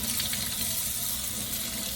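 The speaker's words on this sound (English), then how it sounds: "take it to the sink, run some water" Tap water runs into a kitchen sink in a steady, even stream, a moderately quiet rushing splash at close range with no voices.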